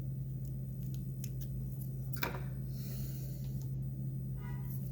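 Scissors trim material on a popper fly with a few faint, quick snips, one more distinct cut in the middle, over a steady low electrical hum.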